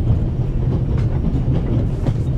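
A train rolls steadily along its rails inside The Raven video game, a loud continuous low rumble with faint rhythmic clatter, with no talking over it.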